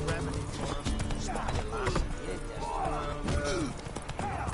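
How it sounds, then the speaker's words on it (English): Horses galloping in The Witcher 3, hooves clattering in a steady run beneath someone talking, with faint whinnies and thumps mixed into the busy scene. "Baron's horses. They're running rampant."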